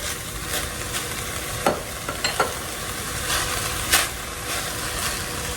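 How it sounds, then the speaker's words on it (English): Onions and bell peppers for chili sizzle steadily in a pan with a constant hiss, broken by a few scraping stirs of a spoon, close and without talk. "We just want to cook this until our onions become translucent and a little soft on our bell peppers."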